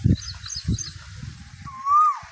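An Asian koel calls in rural Punjab farmland before rain, a rising whistled note near the end, heard after a few low honking and clucking bird sounds in quiet open air.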